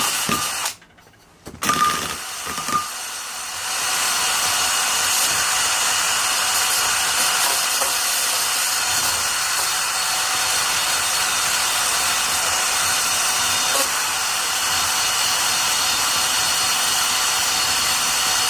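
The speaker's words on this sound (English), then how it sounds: "the drill is much better for getting some of the tight spaces." A power drill fitted with a cleaning attachment scours a car hub during a refurbishment, giving a continuous rough, abrasive whir that runs steadily after a few short starts and pauses at the beginning.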